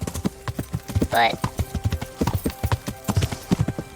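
Horse hooves clip-clop in a steady rhythm in the medieval game Kingdom Come: Deliverance, ridden by a player character, running under nearly continuous talk along with other game sounds.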